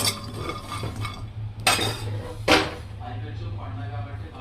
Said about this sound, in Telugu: చూడండి, వాల్నట్ కూడా ఫ్రై చేసుకోవాలి ఫ్రెండ్స్. ఇట్లా మనము లైట్గా రోస్ట్ చేసుకోవాలి.